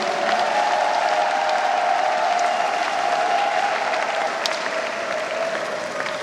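Sustained, dense applause from a crowd, steady and loud throughout, with no breaks.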